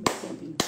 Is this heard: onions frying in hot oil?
no